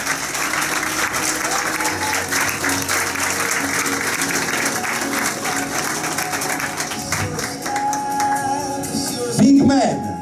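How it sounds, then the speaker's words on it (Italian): An audience claps at a school show, a sustained, fairly loud burst of applause lasting throughout, with some voices and a brief louder moment near the end. "Un grande applauso per Clarissa Costantino."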